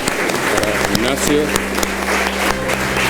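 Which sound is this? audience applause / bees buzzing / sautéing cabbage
audience applause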